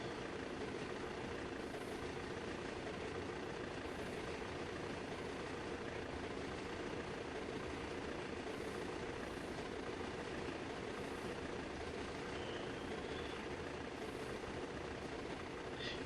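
A video game train locomotive engine runs near full throttle, a steady low rumbling drone that holds without pause, faint and continuous, with no talking.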